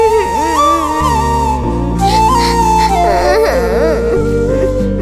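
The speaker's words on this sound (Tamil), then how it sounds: "அதோ 2 குழந்தைங்க அழுதுகிட்டு இருக்கு" Two babies cry together in a Tamil TV serial scene, their wavering wails rising and falling continuously over a steady bed of background music.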